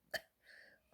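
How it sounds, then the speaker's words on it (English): A single sharp hiccup from a person, close and soft, followed by a faint breathy vocal sound. "I had hiccups."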